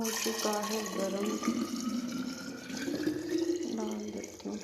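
Hot water pours into a container, its gurgling pitch rising steadily as the vessel fills, close and continuous.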